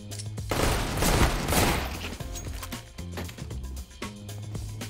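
Rapid bursts of Counter-Strike gunfire, with a Desert Eagle and USP pistols in the round, crack repeatedly over a steady in-game music and ambience bed, loud and busy in the middle before thinning into scattered shots.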